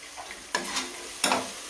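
Country chicken curry with drumstick sizzling in oil as it is stirred, two sharp scraping stir strokes cutting through a steady frying hiss, close up.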